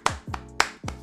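A few hands clap for a performance, four sharp, close, separate claps in about a second, each with a short ring-out and no cheering behind them.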